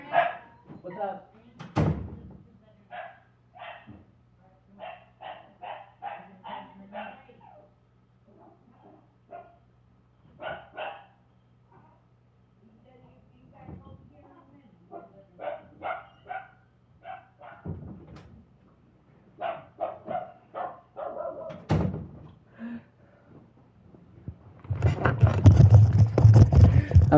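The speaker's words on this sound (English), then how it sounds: "I need to see what the fuck the dog's barking at." A female dog barks at a stranger, a maintenance man making a routine inspection inside a home. Scattered barks sound under steady talk, with a louder, harsher burst near the end.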